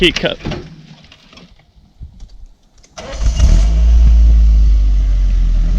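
A car pulls into a campsite parking spot in Kazakhstan. Voices and quieter rumbles come first, then a close engine rises abruptly and holds a loud, steady drone to the end.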